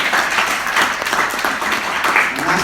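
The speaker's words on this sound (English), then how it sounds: "A round of applause," Sustained applause from an audience at a conservation debate at Birdfair 2019, a steady dense patter of many hands clapping close by, with no pauses across the short stretch.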